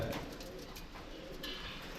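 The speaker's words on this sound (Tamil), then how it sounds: "இந்த புறா பாரு பக்கெட் உள்ள உட்காந்துருக்கு அப்படியே" A pigeon coos softly at a farm, a few low repeated coos close by, with faint background noise and a trace of voices.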